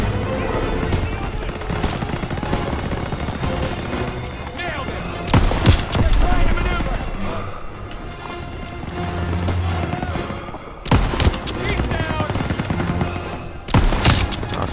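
Heavy machine gun fire rattles in bursts during a Call of Duty: WWII battle against an MG42 nest, with loud volleys, booms and a person talking over the gunfire.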